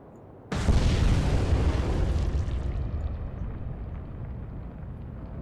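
Torpedoes strike a large freighter in the Atlantic Fleet naval game, setting off a sudden loud boom that rolls into a long, slowly fading rumble.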